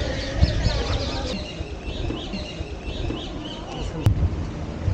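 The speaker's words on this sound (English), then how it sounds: "Such a melodious sound of these birds." Birds chirping and calling around Nahargarh Fort in Jaipur, Rajasthan, a mix of tweets and clucking calls over outdoor ambience, fairly close and continuous with a sharp click near the end.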